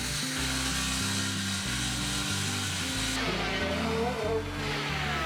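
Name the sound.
power tools planing, milling and cutting mahogany boards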